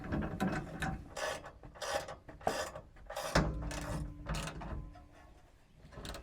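Ratchet with a 13 mm socket on an extension tightening a nut on a truck bed panel of a 2019+ Ram 2500-3500 HD, giving a series of close, quiet pawl clicks in short irregular bursts with faint handling scrapes between.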